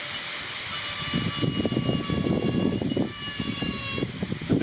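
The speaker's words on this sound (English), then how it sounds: "We have our micro motor turned almost all the way up to full bore." Micro motor rotary carving tool running near full speed at about 40,000 RPM, a steady high whine over outdoor wind rumble, with fluttering grinding bursts as a burr cuts into wood.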